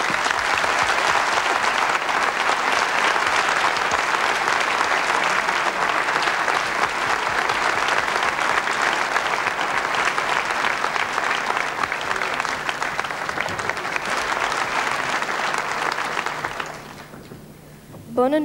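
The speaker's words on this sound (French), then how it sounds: "Je vous demande de les applaudir." Sustained applause from a television studio audience, loud and dense for about sixteen seconds before tapering off abruptly near the end, at a Belgian RTBF Christmas Eve 1991 broadcast.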